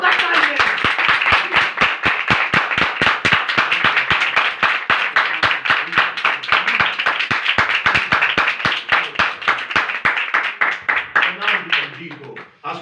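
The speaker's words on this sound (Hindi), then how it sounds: "एक बार जोरदार तालियां" Enthusiastic clapping from a church congregation answering a preacher's call for loud applause, a dense, steady barrage of hand claps across the whole stretch that thins out near the end.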